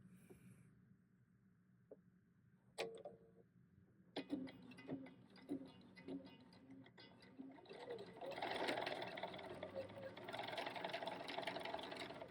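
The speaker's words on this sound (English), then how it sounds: "I'm going to sew this strip." A sewing machine stitches a quilt strip at a quarter-inch seam: quiet handling at first, then a few short bursts of stitching, building into a continuous whirring run that holds to the end, heard close up.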